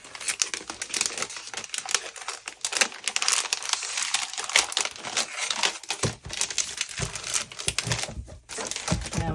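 A scrapbook paper pack being handled and shuffled, giving soft crinkling and rustling with brief taps, close and fairly quiet, with no talking.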